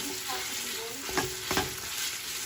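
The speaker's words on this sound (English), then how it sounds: "I brown the sausage" Spicy sausage browns in a pan with a constant close sizzle, punctuated by two brief knocks of a spoon or spatula stirring against the pan.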